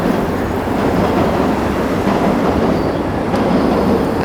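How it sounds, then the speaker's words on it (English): A subway train rumbles beneath a city street, a loud, continuous, close roar with faint rhythmic clatter and a brief squeal of wheels partway through, and no talking. "I hear the subway beneath my feet."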